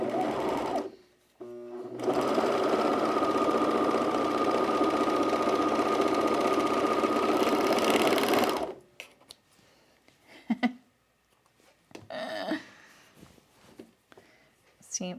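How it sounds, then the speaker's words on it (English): A serger overlocks right across wide elastic on a Strathcona Henley shirt, first with a brief start, then a steady loud whirring run of about six seconds, followed by quiet handling clicks and short spoken remarks. "we're going to do the unthinkable, and we're going to just serge right over this"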